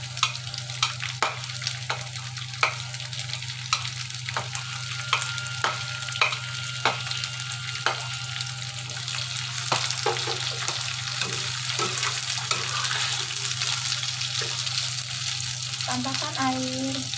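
Jengkol beans fry and are stirred in a pan for sambal jengkol, a steady close sizzle running throughout with repeated scraping clicks of the spatula, and no talking.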